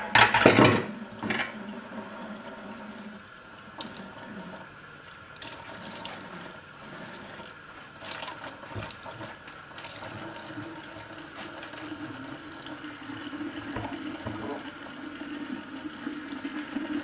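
Lukewarm tap water runs into a sink to wash a tangled toy horse's mane and tail, a low steady stream beneath a few clunks and handling knocks near the start.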